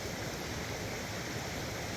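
Steady broadband rush of a waterfall with water flowing over rocks, a constant even roar heard alone with no voices.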